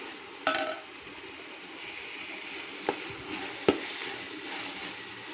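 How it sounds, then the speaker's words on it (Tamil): Vegetables with ginger garlic paste are sautéed in a pan for coconut milk rice, giving a soft steady sizzle with a few sharp clinks of a spoon against the pan. "இப்போ நல்லா வதக்கணும், பச்சை வாசனை போக."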